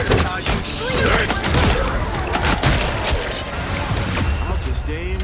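Gunfire in the video game Marvel Rivals, with rapid, dense bursts of shots and impacts layered over continuous game effects, loud and busy across the whole stretch.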